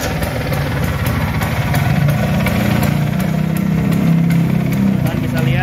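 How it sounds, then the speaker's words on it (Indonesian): A 1964 Vespa VNB scooter engine idles steadily nearby, a continuous low, even putter with a faint regular ticking over it, holding level throughout with no revving. "motor ini salah satu keunggulannya juga di mesinnya enak, lansamnya enak, dan dia punya kompresi padat banget"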